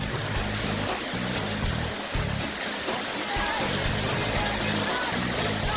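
Heavy rain mixed with hail pours off a house during a storm, a steady dense rushing and splashing of water that continues without a break, loud and close throughout.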